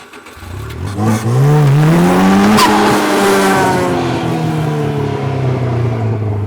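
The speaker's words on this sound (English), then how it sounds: "I just broke that axle doing that burnout" A buggy does a burnout: the engine revs hard and rises in pitch while the tires squeal loudly and steadily for several seconds, close and with no talking.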